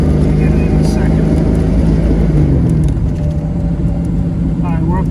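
A 1957 Corvette rolls along in first gear with a steady, loud engine drone and whir that fills the whole clip, heard from inside the car.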